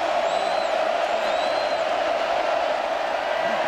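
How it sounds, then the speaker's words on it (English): A stadium crowd roars steadily through a Cal college football Big Game, a constant broad wash of noise with a few faint whoops rising above it. "And you hear the pop in the crowd right now."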